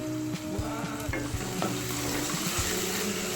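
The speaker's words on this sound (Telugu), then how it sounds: "నేనైతే లో టు మీడియం ఫ్లేమ్లో ఫ్రై చేస్తున్నాను, మగ్గించుకుంటున్నానండి" Chopped tomatoes frying in a pan over a low-to-medium flame for a tomato egg curry, a steady close sizzle broken by repeated stirring and scraping with no voices.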